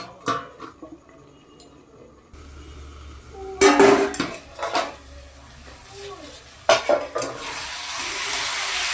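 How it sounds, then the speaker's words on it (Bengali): Metal lid set onto a pot of mutton simmering on the stove, with a few clanks and clatters of cookware and sizzling, heard near and alone. "স্টিম কমিয়ে দিয়ে ঢাকা দিয়ে দিতে হবে।"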